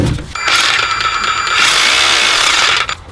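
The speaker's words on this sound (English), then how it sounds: "So that's my chiseling action." A Metabo KHA 36 LTX cordless hammer drills in chiseling mode with a loud, steady, buzzing hammering that runs continuously for nearly three seconds before cutting off.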